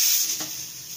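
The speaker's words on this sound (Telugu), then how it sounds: "మనకి ఇవి ఫ్రై అవుతున్నాయి కదండి" Urad dal, chana dal and cumin seeds frying in hot oil for a cucumber chutney tempering, a steady close bright sizzle with a brief stir partway through.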